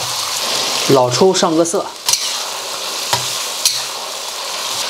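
Lean pork with scallion and ginger stir-fries in a wok for Qishan saozi noodles, giving a steady background hiss with a few sharp clatters while a person speaks briefly over it.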